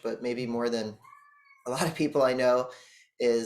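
A cat howls outside during an indoor interview, two drawn-out wavering yowls heard faintly between stretches of nearby conversation.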